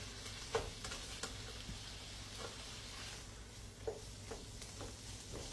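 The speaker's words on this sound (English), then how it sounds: "we just brown the meat." Ground beef browning in a pan, a steady close sizzle and crackle with a few faint scraping stirs now and then, without talk.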